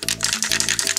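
A spray-glue aerosol can shaken hard, its mixing ball rattling in quick, loud, close strokes for about a second with no talk.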